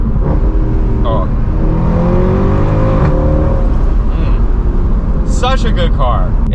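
A 2012 Mercedes C63 AMG with traction control fully off accelerates hard, its loud engine note climbing in pitch through repeated rising sweeps while excited voices call out over it.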